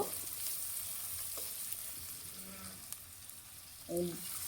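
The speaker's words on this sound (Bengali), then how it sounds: "এখন একটু এগুলো ভালো করে নাড়ায় নিব।" Ginger, garam masala and cumin paste frying in a pan while being stirred, a faint steady sizzle with a few soft utensil scrapes and a brief louder clatter near the end.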